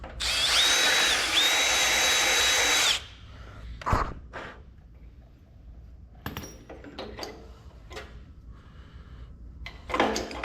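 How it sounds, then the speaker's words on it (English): Power drill whirring for about three seconds while boring holes in a car brake part, followed by scattered metallic clinks and knocks of parts being handled in a garage. "Forgot to drill those holes out for powder coat."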